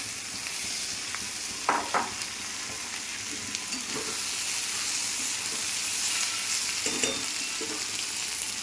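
Fried fish with turmeric and chili powder sizzles steadily in a pan for a fish chachchari, a continuous close frying hiss with a few scraping stirs.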